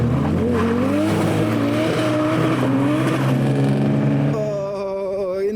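A boosted BMW E46 leaves a car meet, its engine revving hard and loud with rising and falling pitch through several gear pulls, then fading into a whistling wind-down near the end, no talk.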